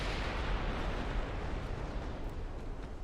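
Battleship guns firing in the naval game Ultimate Admiral Dreadnoughts produce a continuous, dense rumble of heavy gunfire and distant blasts, steady and moderately loud throughout with no talk.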